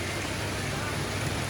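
Heavy rain falls outdoors near a beach house in Nigeria, a steady, even hiss of downpour heard up close with no break across the short stretch.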